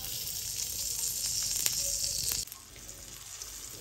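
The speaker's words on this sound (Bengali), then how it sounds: "এখন দিয়ে দিচ্ছি কড়াইতে ঘি।" Ghee hisses and sizzles loudly in a kadai, a steady bright frying crackle that drops abruptly to a quieter simmer partway through.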